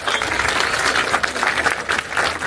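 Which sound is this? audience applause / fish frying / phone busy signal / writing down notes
audience applause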